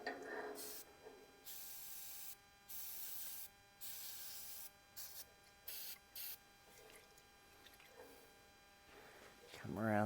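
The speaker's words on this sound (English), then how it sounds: "We get some spray on those." Bursts of liquid spray hit engine parts during a teardown, several short hisses in an irregular rhythm, close and fairly loud, with someone talking between them.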